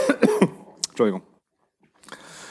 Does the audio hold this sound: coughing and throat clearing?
yes